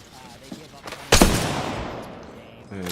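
A sudden loud burst of gunfire in the battle-royale game Apex Legends, a sharp crack with a fading rattle amid quieter game sounds.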